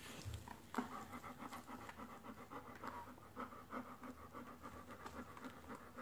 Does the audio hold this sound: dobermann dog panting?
yes